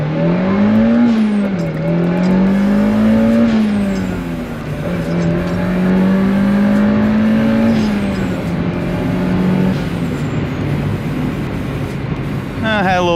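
A turbocharged Mazdaspeed Miata revs hard through the gears, its engine pitch rising and dipping across shifts, with a Greddy Type S blow-off valve venting during the run; the sound is loud, close and steady.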